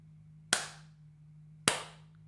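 Two sharp hand claps about a second apart, each a crisp broadband crack with a short decaying tail, heard alone over a steady low electrical hum in a small room.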